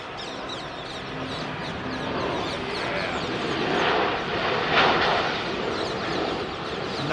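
A jet airliner passes at London Heathrow, its loud, steady engine roar swelling gradually to a peak and then easing slightly, with no talk over it.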